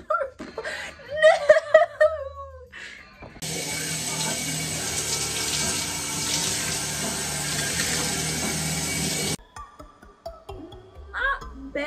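Water runs steadily from a sink tap for about six seconds while hair is rinsed after colour removal, with a voice and laughter before and after the flow.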